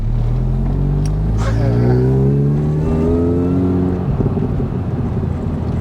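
A supercharged Mini Cooper S R53 engine revs up loud and close, its pitch climbing steadily over several seconds before easing off, with a brief voice over the top.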